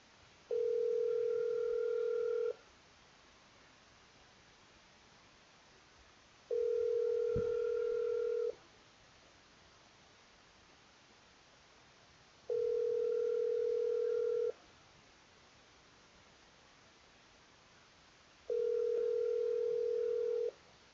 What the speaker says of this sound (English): let's see if we can get a hold of him on the cell phone.